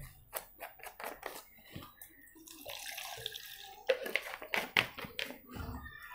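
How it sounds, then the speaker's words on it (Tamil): Water splashes and trickles as it is poured onto tamarind in a pot to soak for a fish curry, soft intermittent pouring and drips at close range, fairly quiet with small handling noises. "தண்ணியை ஊற்றி ஊற வச்சிடறோம்."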